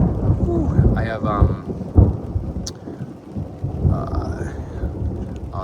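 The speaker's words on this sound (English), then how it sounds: "That thunder is so loud." Loud rumbling thunder rolls through a Sonoran Desert monsoon thunderstorm in a garden, with rain falling steadily and low booming swells, plus a faint voice briefly in the background.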